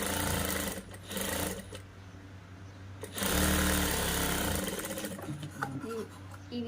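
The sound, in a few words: sewing machine stitching blouse sleeve joint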